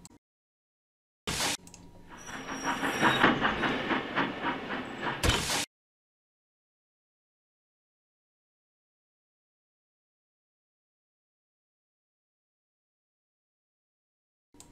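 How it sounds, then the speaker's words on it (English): Toy-style train pulling a line of coal trucks on a rail layout, heard as a steady hissing, clicking rumble that swells and fades over about four seconds before cutting to long silence, with no talk. "Percy had picked up his train of coal trucks."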